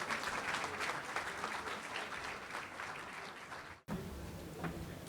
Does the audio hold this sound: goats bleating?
no